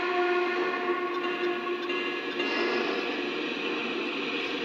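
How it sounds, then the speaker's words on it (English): A Lionel Vision Line Pennsylvania Class A model train sounds its Pennsy Hooter whistle, a steady, sustained multi-tone blast heard up close and alone for several seconds. "So this is the whistle I've been using the most. This is ironically the Hooter."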